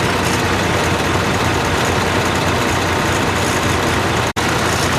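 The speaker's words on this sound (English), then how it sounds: "sound of all the diesel in this little section down here" Diesel tractor engines idle together at a tractor show, one of them a 656 Hydro fitted with a snow blower and a front bucket, making a loud, steady, close low rumble with no talk.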